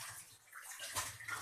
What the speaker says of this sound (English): For preparing soup, we need to add little water and we need to adjust the consistency.